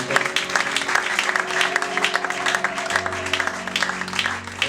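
Loud, sustained applause from a church congregation, a dense continuous clatter of clapping hands over steady sustained music tones, lasting throughout.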